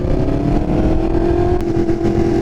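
Motorcycle engines drone loudly and steadily, a constant rumbling hum with a rising tone, as if riding off close by.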